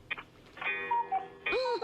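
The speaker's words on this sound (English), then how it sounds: "That's Fred's sound effects machine is on the phone." A sound effects machine heard over a phone line gives a short run of electronic tones and warbling beeps, including a rising and falling whoop, thin and slightly distorted.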